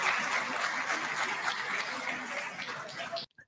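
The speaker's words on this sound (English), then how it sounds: "Yeah, they're clapping for the comedic nation." Crowd applause fills the room during Trump's speech in Israel, a dense, steady wash of many hands clapping that carries on for several seconds before cutting off abruptly.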